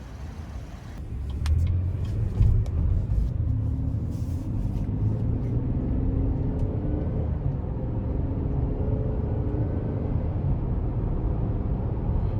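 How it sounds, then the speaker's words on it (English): A 2022 Chevrolet Traverse Premier with a 9-speed transmission driving on the road, heard from inside as a steady low engine and road rumble that rises slightly as it gets under way. "it's time to go ahead and take this 2022 Traverse out on the road for a quick test drive"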